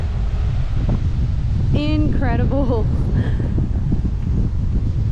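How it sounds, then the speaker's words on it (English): Strong wind buffets the microphone at a coastal campsite at Archer Point, a loud continuous roar with rustling throughout, while a voice briefly speaks over it. "it's super windy"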